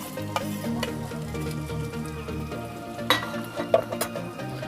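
Gobindobhog rice stirred and sautéed in a fish head masala in a pan, giving a steady low sizzle with scraping stir strokes and a few sharper clatters near the end, heard alone.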